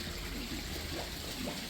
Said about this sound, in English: Here you have your pool with your waterfall.